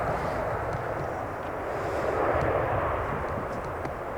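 A Ryanair Boeing 737 lands at Manchester Airport, heard as a steady broad jet roar at a distance with a faint swelling rush, continuous throughout.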